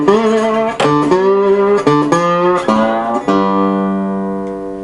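Slide guitar picks out a brief blues lick on the open and fretted low strings, sliding between notes in a loose rhythm before a final note rings out and fades, played alone.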